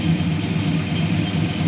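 A fuel-injected 360 cubic inch V8 in a 1967 Plymouth Belvedere II idles through its dual exhaust, a loud, steady, close low rumble with no talking.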